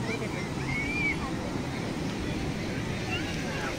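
Surf washing onto the beach at Ganpatipule, a steady broad wash of waves close by, with people talking over it throughout.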